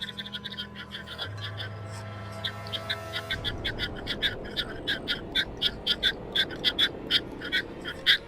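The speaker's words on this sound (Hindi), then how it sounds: "मेंढक है ये देख" Frog croaking outdoors near a mound at night, a rapid series of short repeated croaks that grows louder and more insistent after a low hum fades out, heard alone without talk.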